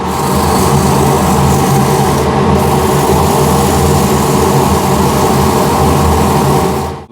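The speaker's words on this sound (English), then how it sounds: "Sanding time." Continuous loud whir of a wood lathe spinning a wooden trinket box while it is sanded, a steady dense drone with a faint rubbing texture that runs unbroken for about seven seconds.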